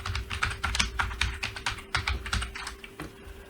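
Rapid, close clatter of computer keyboard keys in uneven bursts as a course title is entered, fairly loud and alone with no speech.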